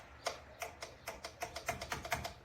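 A torque wrench tightens PCV parts on a Mazda 2.0L Skyactiv engine. About a dozen faint, crisp ratcheting clicks come in an uneven rhythm that speeds up toward the end, with no talking.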